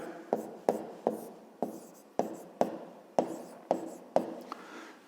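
Pen strokes on notebook paper during a fifth-grade maths exercise, heard as nine sharp, evenly spaced taps and scratches, each fading quickly, close and clear with no talking over them.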